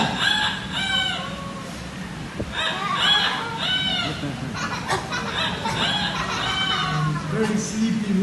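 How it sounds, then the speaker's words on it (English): A noisy rooster at Jurong Bird Park in Singapore crows loudly several times in close succession, with clucking fowl and other birds around it and voices talking in the background. "every morning, they will be woken up by the very noisy rooster."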